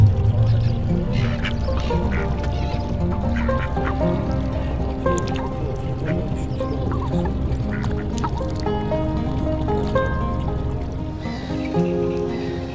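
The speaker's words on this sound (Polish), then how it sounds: "kaczki, które z ochotą korzystają z naszych zapasów, odwdzięczając się donośnym kwakaniem" Ducks near a boat on the Great Masurian Lakes in Poland quack loudly and repeatedly in a busy, overlapping chorus of nasal calls close by, over steady background noise.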